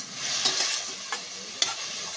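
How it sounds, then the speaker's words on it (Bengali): Food fries in a pan of oil with a soft continuous sizzle, stirred now and then with a few quick clicks and scrapes, close and fairly quiet. "আমি একটু ভাজা করব।"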